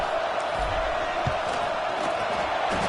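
Stadium crowd at a college football game waiting on a crucial field goal attempt, a steady loud roar of many voices filling the whole stretch with a few brief shouts rising out of it.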